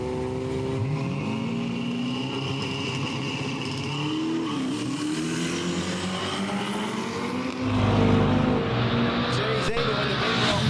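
A drag car roars at a street drag racing event, its engine droning loudly before surging louder as it launches and pulls away, with a commentator talking over it.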